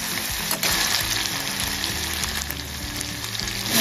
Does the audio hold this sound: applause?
no